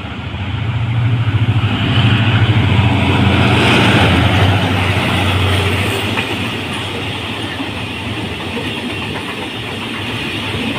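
Thai railway locomotive 4517 running light with no cars attached rumbles past, a loud steady engine drone with rail noise that swells then eases slightly as it goes by.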